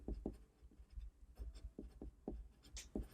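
Pen scratching out a signature on a comic pencil sketch, close and quiet, with a series of short strokes and a few louder flicks.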